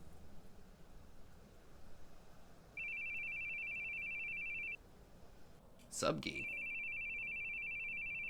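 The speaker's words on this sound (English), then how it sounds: "Your phone's ringing." A phone ringing in the horror game The Boogieman, a steady electronic ring held for about two seconds, then starting again after a short break and continuing, fairly loud over quiet background hiss, with brief talk and a bump in between.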